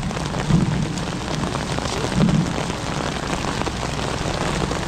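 Steady heavy rainfall hisses continuously, drumming on nearby surfaces, with two soft low thumps breaking through.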